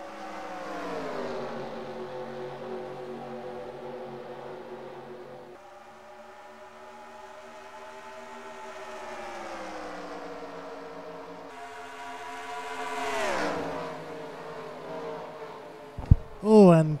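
Race cars in the NASCAR Racing 2003 video game at Nashville roar past, a steady engine drone swelling into a louder pass near the end, with commentators talking over it.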